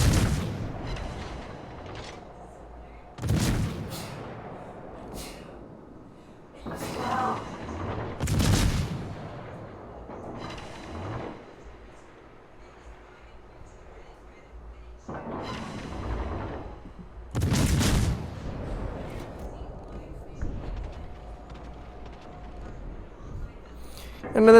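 The main guns of the cruiser La Galissonnière fire in a World of Warships battle: several sharp, booming salvos spaced a few seconds apart, each with a rumbling tail, while someone talks over the shots.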